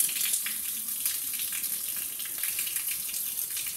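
Liquid thought to be milk pours steadily out of a tunnel where tipped-over milk bottles have split open, a continuous close hiss and gush of flowing liquid with no talk.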